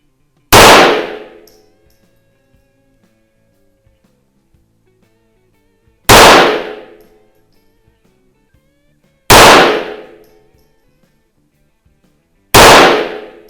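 A 1920 Reising .22 auto pistol fires at an indoor range: four loud, sharp single shots spaced several seconds apart, each with a short ringing decay and quiet gaps between.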